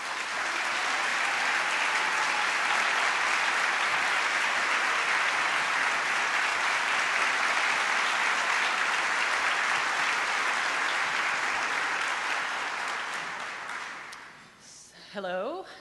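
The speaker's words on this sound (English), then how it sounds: "Will you please give a really warm round of applause to Miss Deb Steele." Warm, sustained applause from an audience at a Pride brunch, a dense wash of many hands clapping steadily for about fourteen seconds before fading out, with a voice starting to speak at the very end.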